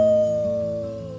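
Voices imitate a wolf pack's howl in the Life is Strange 2 video game: one long, loud, steady howl that slowly falls in pitch and fades slightly toward the end.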